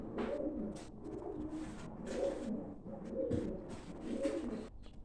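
A female Bozkırlı pigeon coos close by, a series of low, throaty, rolling calls repeated in a steady rhythm, with no talking.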